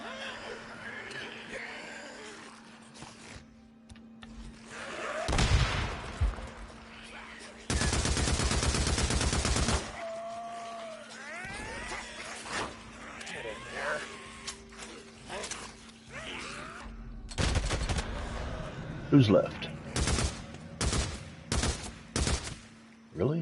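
Bursts of gunfire in the video game Days Gone crackle repeatedly, some long sustained volleys and some short rapid shots, with a person speaking briefly between them.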